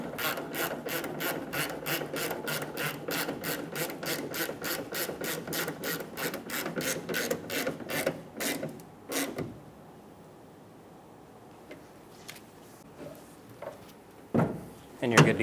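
Quick ratchet clicks tightening a tailgate cable bolt on a 2014-2018 Chevrolet Silverado 1500, a steady close rapid clicking for about eight seconds, then a few slower strokes and quiet handling noises.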